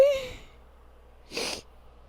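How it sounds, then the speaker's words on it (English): A short vocal sound is followed a moment later by a single sharp, breathy sneeze, fairly close. "Well, if I can stop sneezing, we might be hosting something today."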